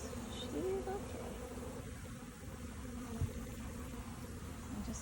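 Honey bees drone around an open beehive while a queen is placed inside, a steady close buzzing hum throughout with faint handling noises.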